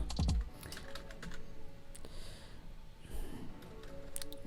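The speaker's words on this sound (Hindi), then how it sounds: "मैं यहाँ पर कुछ भी टाइप करूँगा" Rapid keystrokes on a computer keyboard, a quick burst of loud clicks at the start followed by scattered lighter taps close by.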